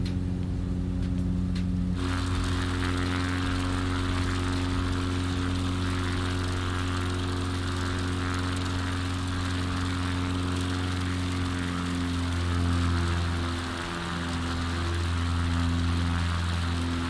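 XCub propeller plane climbing out after takeoff in Microsoft Flight Simulator 2020, a loud steady engine and propeller drone with layered harmonic tones, a brief rough start, then a smooth continuous climb with slight pitch shifts.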